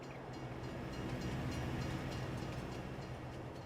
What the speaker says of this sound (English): So here we have a train transfer station.